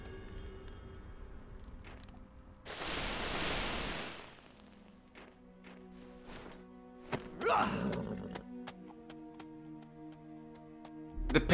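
A horse in the video game Castlevania: Mirror of Fate gives a short, loud, breathy whinny over quiet ambient game sound, followed by softer hoof and movement noises.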